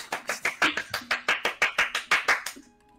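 Hands clapping in a steady rhythm, about fifteen sharp claps spaced evenly over a few seconds, close and clear with no talking, then stopping.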